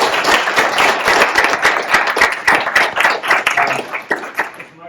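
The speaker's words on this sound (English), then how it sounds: "give her a little round of applause" Audience at a community recognition event gives a loud, steady round of applause for an honored local woman, dense overlapping claps filling the room throughout.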